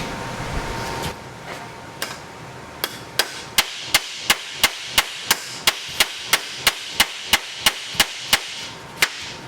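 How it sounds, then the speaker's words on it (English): Hammer blows shaping a sheet metal patch panel, a few scattered strikes and then a steady run of sharp, evenly spaced metallic hits, close and loud with no talk. "I'm just going to hammer these out and try to get it to stretch out without switching my dies out."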